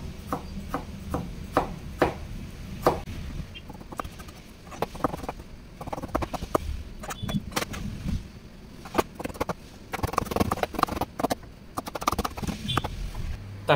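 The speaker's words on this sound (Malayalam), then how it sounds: "തക്കാളി വളരെ ചെറുതായിട്ട് നമ്മൾ കട്ട് ചെയ്ത് എടുത്തിട്ടുണ്ട്." Tomatoes are chopped very finely with a knife on a board for a Kerala-style egg curry, giving quick, uneven bursts of light tapping strokes, close and moderately quiet, with no speech.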